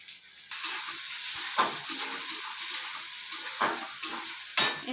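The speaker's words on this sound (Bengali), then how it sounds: "এরপরে টমেটো কুচি দিয়ে দিচ্ছি। আমি একটু চিকেন মশলা দিয়ে দিচ্ছি।" Chopped tomato sizzles in a hot pan with chicken masala for chow mein, a steady frying hiss broken by several sharp scrapes and clinks of a spatula stirring against the pan.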